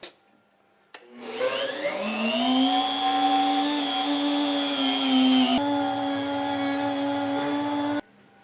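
A power sander whirs steadily for several seconds, smoothing away the holding tabs on a CNC-carved wood project, with a rising start, a sustained hum and an abrupt stop.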